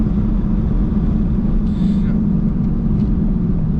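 A supercharged Ford Mustang heard from inside the cabin while driving: a steady, loud low-pitched engine and road drone that stays unbroken for the whole stretch.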